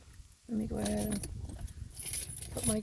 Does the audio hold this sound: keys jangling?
yes